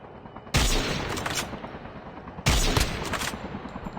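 Gunfire in the mobile battle royale game Call of Duty Mobile: two loud, sudden automatic bursts about two seconds apart, each ringing out with a trailing rattle over a faint background.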